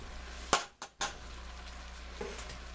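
Beef and garlic go into a hot soup pot with a faint sizzle under a couple of sharp clatters as the meat drops in and is stirred, then a soft, steady frying hiss.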